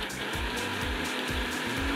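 A kitchen blender grinds rice and black pepper, a continuous whirring motor with a rhythmic chopping pulse about three times a second, close and fairly loud with no voices.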